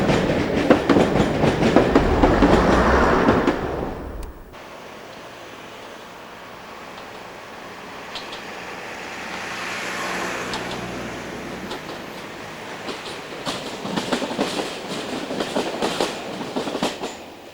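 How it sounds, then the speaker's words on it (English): A British Rail Class 117 diesel multiple unit train rumbles past loudly, its clatter fading away before a second swell of rail noise builds and clicks along the track. "This mainly sees Class 117 DMUs, and here one passes the seldom used connection to the Midland Main Line."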